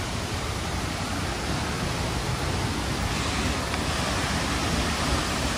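Steady, loud roar of the Ozarde waterfall at Koynanagar, Satara, a broadband rush of falling water filling the whole clip without pause, heard from close by near the steps leading to the falls.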